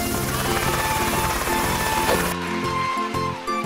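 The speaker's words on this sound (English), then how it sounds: "Helicopter." Helicopter rotor chopping loudly and close in a rapid, steady rhythm, with a high turbine whine over the beating blades.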